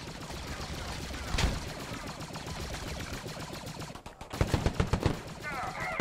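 Bursts of blaster and rifle gunfire in a Squad Star Wars mod battle, sharp rapid shots clustering loudly toward the end over a constant busy background din.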